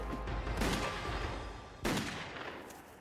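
Gunfire in a Dolph Lundgren action film: two heavy bursts of shots about a second apart, loud and close, each trailing off into a rumbling echo.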